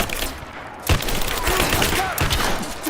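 Rapid bursts of gunfire crackle in a firefight in the action game Rise of the Tomb Raider, loud and close, with shots overlapping in busy volleys.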